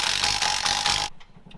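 A ratchet clicks rapidly and close at hand, tightening the nuts that hold a truck's brake drum to the axle shaft, then stops abruptly and leaves a short quiet tail.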